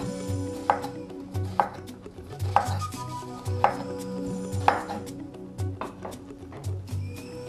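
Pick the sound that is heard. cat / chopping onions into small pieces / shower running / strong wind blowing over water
chopping onions into small pieces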